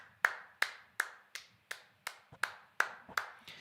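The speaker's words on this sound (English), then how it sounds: "That'll be the coaching clap." A coach claps hands at a Counter-Strike esports tournament: about ten sharp, evenly spaced claps in a steady rhythm, close and crisp against quiet surroundings.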